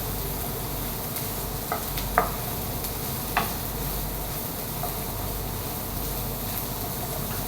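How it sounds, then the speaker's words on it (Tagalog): Onions sauté in a pan for squid masala, a soft continuous sizzle at low volume with a few brief clicks of a spoon against the pan. "Hayaan lang natin siyang maluto yung ating sibuyas guys na mag-brown siya"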